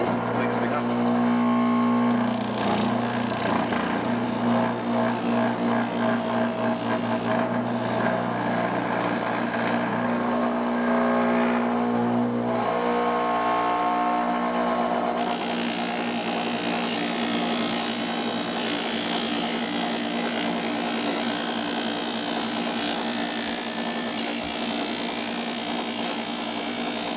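Buffing wheel motor whirring loudly and steadily while polishing a Messerschmitt Bf-108 aircraft part, a close continuous machine drone with shifting tone as the part is worked.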